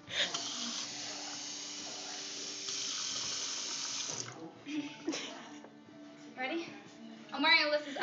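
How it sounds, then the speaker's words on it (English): A kitchen or bathroom sink tap runs in a steady hiss for about four seconds, then stops. Close voices and breathy noises follow in short bursts. "Do it over the sink."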